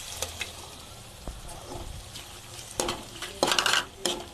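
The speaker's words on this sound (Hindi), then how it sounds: "इसे अच्छे से मिक्स कीजिए।" A spoon stirs eggs mixed with red chili powder in a pan, making quiet scrapes with sharper clinks of metal against the pan and a soft sizzle underneath.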